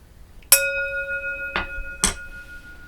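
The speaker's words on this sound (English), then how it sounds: "I'm going to ring the bell." A single bell rings out sharply, then two softer strikes follow about a second and a half apart, each leaving a clear ringing tone that lingers in an otherwise quiet room.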